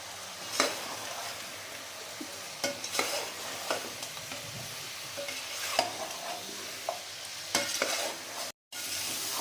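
Afghani chicken korma sizzles as it fries in a pan, steady frying hiss broken by repeated scrapes and knocks of a spoon stirring against the pan, close by and without speech.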